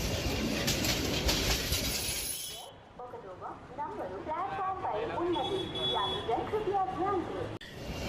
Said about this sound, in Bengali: প্ল্যাটফর্মে একটু অপেক্ষা করতেই ট্রেন চলে আসলো।